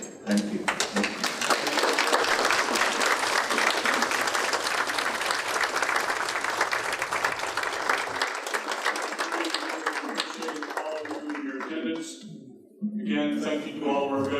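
A standing audience at a Vietnam War veterans' commemoration applauds at length, a loud sustained wash of clapping with a voice speaking over it, then the applause thins out and talk resumes near the end.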